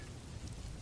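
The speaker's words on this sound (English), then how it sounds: "the rain's steady drumming against the roof" Steady rain drumming on a roof on a rainy night, a dense continuous patter with no pauses, fairly soft and even throughout.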